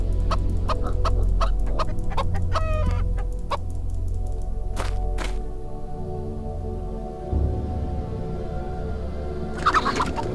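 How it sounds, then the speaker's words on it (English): Chickens cluck and squawk inside the video game Arx Fatalis, a busy run of sharp, repeated clucks up close, then a quieter stretch with a few isolated calls and a burst of flurried noise near the end. "I think that's enough of torturing chickens."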